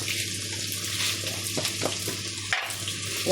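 Sliced onions and green chillies sauté in a pan with a little rock salt, giving a close, continuous sizzle broken by a few scraping stirs.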